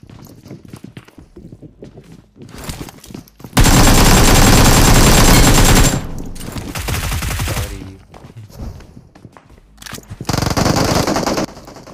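Enemy gunfire in a mobile battle royale game comes from houses across the way: scattered shots and a long, loud, sustained burst of automatic fire, then more volleys, with footsteps in between.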